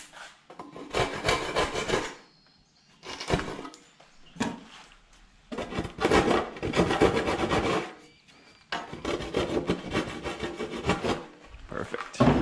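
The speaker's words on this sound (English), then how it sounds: "Handsaw." Handsaw cutting through wood on a post and beam barn build, with bursts of rapid rasping strokes separated by short pauses, close and clear.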